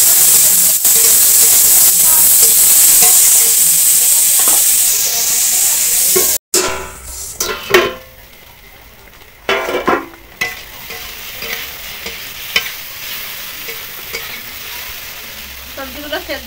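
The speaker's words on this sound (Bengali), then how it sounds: "লবণ, হলুদ গুঁড়ো, এবার ঢাকা দিয়ে দিয়ে সবজিগুলো একটু ভেজে নেব" Vegetables (potato and eggplant) frying in a pan with salt and turmeric, a loud steady sizzle that cuts out abruptly, followed by quieter frying with intermittent stirring scrapes and clatters.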